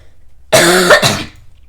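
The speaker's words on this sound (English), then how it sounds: "Yeah, sorry about the coughing." A single harsh throat-clearing cough, close and fairly loud, lasting under a second before quiet returns.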